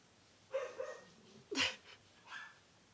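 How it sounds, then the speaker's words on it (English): A dog indoors gives a few short, fairly faint barks and yips, spaced out over a couple of seconds against a quiet background, with no one speaking. "You put him outside, he'll bark because he wants to come back inside."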